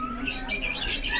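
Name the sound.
canaries chirping softly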